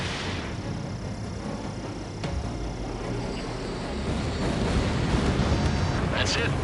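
Enemy bomber blown out of the sky in a PS4 flight combat game, a rumbling explosive roar that builds and grows louder toward the end over a steady wash of engine noise.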